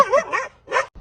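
A dog lets out a few quick whiny barks and yelps in close succession, loud and near, with short gaps between them and no talk.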